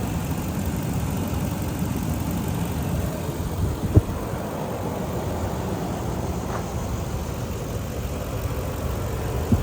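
A 1999 Lexus LX470 V8 idles steadily at close range, a smooth continuous low rumble with a couple of faint clicks and no talking.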